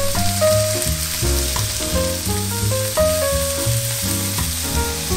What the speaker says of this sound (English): First, we will fry some garlic and then add our choice of meat.